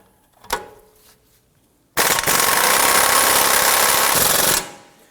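An impact gun hammers loose an 18mm nut on top of the front inner tie rod of a 2003-2014 Volvo XC90. A faint click comes first, then one loud, close, rattling burst runs for about two and a half seconds and stops.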